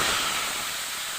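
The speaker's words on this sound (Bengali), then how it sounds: "এবার আলুগুলো আমি একটু লাল করে ভেজে নেব" Potato pieces added to hot oil in a kadai with bay leaf and whole cumin, giving a loud, continuous close sizzle and hiss with no break.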